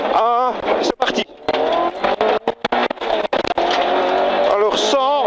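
A Peugeot 106 rally car launching into a stage at the Legend Boucles Bastogne, its engine revving hard through rising gear sweeps, with choppy bursts and a co-driver's voice speaking over the noise.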